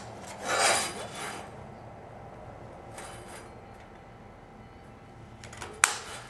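Metal bar stock being cut for a modular rocket stove stand gives off a few rasping, scraping strokes, one longer burst near the start and shorter ones later, ending in a sharp clank, close by with no talk.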